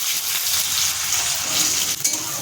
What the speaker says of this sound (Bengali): আমি এক্ষুনি দিয়ে দেবো কেটে রাখা পেঁয়াজ।